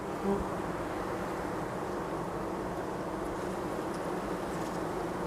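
A dense, steady drone of many honeybees buzzing together around an open hive, continuous and close, with no voices.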